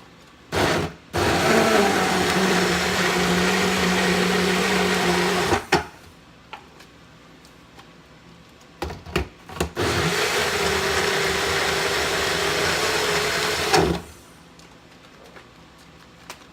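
A blender grinds hot peppers for hot sauce, running loud and steady for about five seconds, stopping briefly with a few knocks, then whirring again for another four seconds before cutting off.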